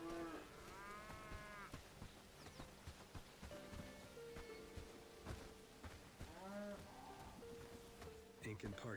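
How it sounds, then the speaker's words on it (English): Cattle moo repeatedly in a Renaissance faire setting within a video game, several drawn-out lowing calls over a faint insect-like buzz, with occasional quiet speech. "I don't like this cow."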